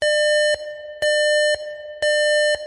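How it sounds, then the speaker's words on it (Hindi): Emergency alarm sounding aboard the Columbia space shuttle in 2003: a loud, piercing electronic tone in regular half-second pulses, alternating two pitches in a repeating pattern, alone and close. "कोलंबिया स्पेस शटल में लगा इमरजेंसी अलार्म बजने लगता है"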